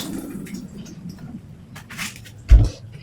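Face being washed with soap and water at a sink: soft wet squishing and rubbing, then a close splash of water near the end, with no talking.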